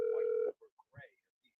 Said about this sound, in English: No pick up the phone